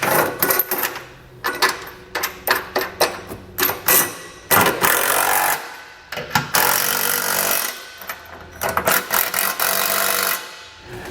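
Trailer hitch bolts on a 2022 Subaru Forester being snugged down with a 19mm socket for a Curt receiver: repeated short bursts of rapid ratcheting and clicking at close range, with brief pauses between.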